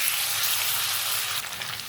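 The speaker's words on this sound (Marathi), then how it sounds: "बटरनंतर त्यामध्ये आपण घालणार आहोत आलं लसूणची पेस्ट आणि ते पण व्यवस्थित परतून घ्यायचं" Ginger garlic paste sautés in melted butter in a pan, a close, steady hiss and sizzle of frying with a brief stir toward the end.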